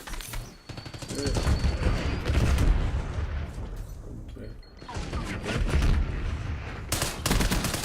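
Gunfire in the video game Black Ops 6, with dense bursts of automatic fire and sharp shots rattling on and off under a player's voice, with brief quieter gaps between volleys.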